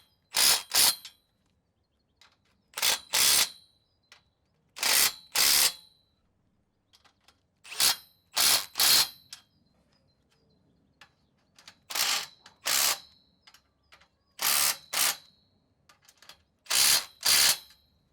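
Bolts on the aluminium base rail of a polytunnel greenhouse tightened with a ratchet, pairs of sharp clicking bursts repeating at regular intervals with quiet gaps between, close and alone.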